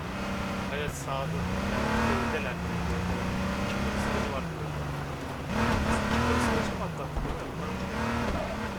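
Police car engines in the video game H1Z1 hum and rev steadily with rising and falling pitch, close and continuous, with occasional tire squeals and bursts of noise.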